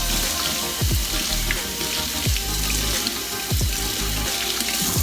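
Two cans of garbanzo beans are drained and rinsed in a strainer under running tap water, a steady close rush of water with periodic dull thumps and shifting as the beans are tossed.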